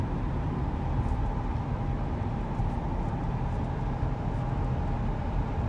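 Inside a moving car, a steady low rumbling road noise with a faint tonal hum runs unbroken for several seconds, loud and close with no pauses.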